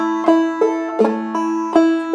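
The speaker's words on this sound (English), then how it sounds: "Normally, alternate string pull-offs most commonly sound like this," Clawhammer banjo alternate-string pull-offs picked in a bouncy rhythm, bright plucks and quick pull-offs ringing alone, about five or six accented notes.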